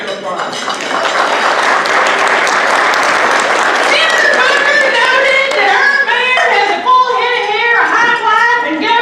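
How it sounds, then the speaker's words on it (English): Loud audience applause for Mayor Adler at a roast event, thick clapping from a crowd that gradually gives way to cheering and overlapping excited voices. "Give another big round of applause."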